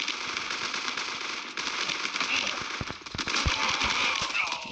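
Azimuth weapon firing in the Gun of Boom shooter game, a dense stream of rapid automatic gunfire with sharp crackling shots, loud and close throughout with a few heavier bursts near the end.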